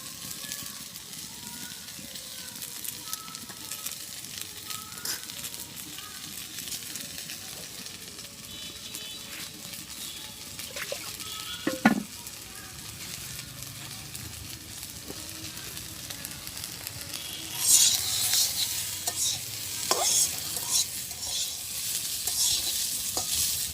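Eggs cooked on top of fried eggplant in a home kitchen pan sizzle steadily while a spatula scrapes and stirs, with a louder burst of frying near the end and no speech.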